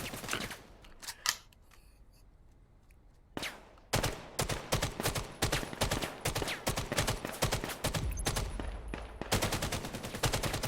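AK rifles in the VR shooter Vail VR firing rapid bursts of crisp gunshots, loud and close, after a brief quieter stretch, with dense automatic volleys continuing to the end.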